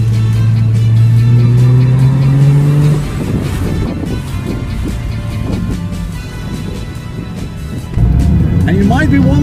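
A Triumph TR6 engine revs hard during a hill climb race, rising in pitch through the gears with a close, loud exhaust note, then settling into a rougher drone before climbing again, while someone talks over it.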